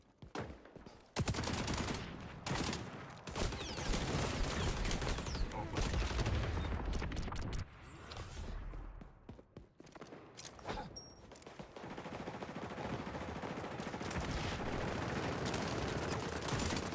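Gunfire in the video game Warframe: dense, continuous bursts of automatic fire and loud blasts that keep going almost without a break, with a short dip partway through.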